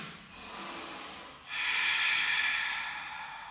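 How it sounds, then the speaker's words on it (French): Deep Ujjayi yoga breathing during a home workout session: a breathy hiss for the inhale, a brief pause, then a stronger, longer exhale, close and steady with no talking. "Inspirez et soufflez."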